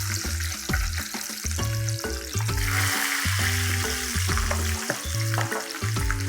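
Curry leaves and green chillies sizzle in hot oil while frying aloo chivda, a steady crackling hiss running throughout with clatters of a spoon stirring the pan, close and loud.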